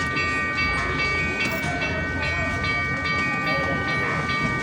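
A train pulls into a station, its wagons rumbling and clattering loudly and close by, with a sustained whistle tone and brief bursts of background voices.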